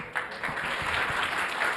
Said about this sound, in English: A round of applause for them, come on.